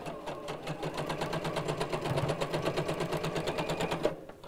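Sewing machine stitching fabric pieces together for a box cushion cover, a steady fast mechanical clatter running close and continuous for about four seconds before stopping.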